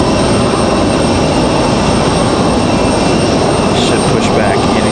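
Delta airliner taxiing toward the runway at Raleigh-Durham airport, a loud, steady jet engine roar with a constant whine filling the whole stretch, with a few faint chirps on top.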